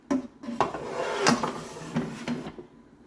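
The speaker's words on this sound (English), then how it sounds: "I'm going to pull that pan out, the bottom pan, without the crisper tray in it." The bottom pan slides out of a Ninja Combi multi cooker with a series of metallic clunks and a scraping rattle, several knocks spread over about three seconds, close by with no speech.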